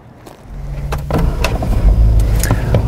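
Power liftgate on a 2016 Lincoln MKX closing, a steady motor whir that builds over a few seconds with faint clicks and rustles, close and heard alone.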